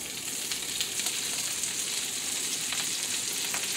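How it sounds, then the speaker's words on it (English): Sliced Brussels sprouts sizzling in a hot pan, a continuous bright crackle and hiss with faint stirring, heard alone and at moderate level. "because you want that sizzle and you want it to sweat down"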